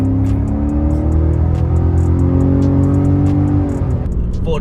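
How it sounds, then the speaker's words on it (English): A Ford Raptor truck's exhaust rumbles loudly and steadily with a deep, rising engine tone, then eases off near the end, close and dominant with no talk. "the exhaust, it doesn't sound mean. I mean, it does sound mean if you're pushing it"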